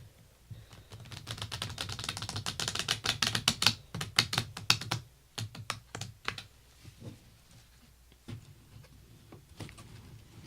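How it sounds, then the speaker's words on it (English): A deck of tarot cards being shuffled: a dense run of crisp riffling card flutters building over several seconds, then several separate snaps and taps as the cards are squared and split, close and fairly quiet, with no voices. "Let's shuffle the deck."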